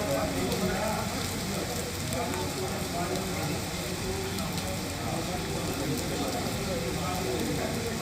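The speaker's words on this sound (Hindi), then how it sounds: "तो देखिए, हरियाणा के कई जिलों में बारिश हो रही है" Rain falling steadily across districts of Haryana, a constant hiss of drops on surfaces that holds evenly for the whole stretch, with faint voices mixed underneath.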